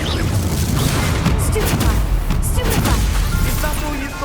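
A Confringo fire spell explodes in the Hogwarts Legacy video game. Loud, dense booming bursts crackle and rumble continuously across the whole stretch, close and forceful.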